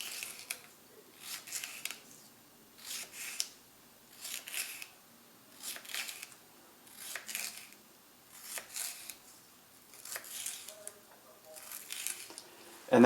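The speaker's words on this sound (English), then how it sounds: "I'm going to slice it as small as I possibly can. So I'm just going into these little slices" A knife cuts a sweet red pepper into small pieces in a steady rhythm of soft, close chops, roughly one every half-second, against a quiet background.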